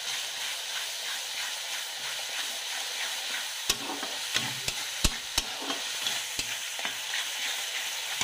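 Ginger-garlic paste frying in oil in a pan for an egg curry gives a steady close sizzle and hiss, broken in the middle by several sharp clicks of a spatula against the pan.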